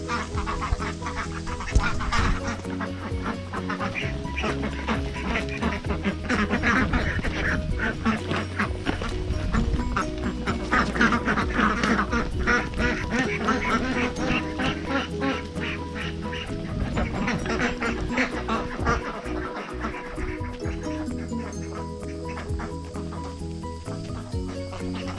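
Ducks on a farm quack continuously in a loud, busy chorus for over twenty seconds, overlapping calls with some other fowl-like squawks mixed in, no talk.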